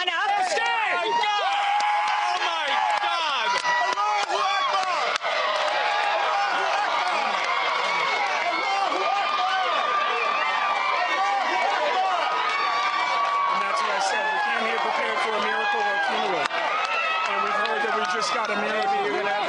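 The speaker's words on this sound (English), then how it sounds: "We're hearing some kind of cheer that has gone up." A large crowd gathered outside over a death-row execution in Georgia sends up a sustained cheer, a dense roar of voices with shouts and babble filling the whole stretch at steady loudness, with speech mixed in.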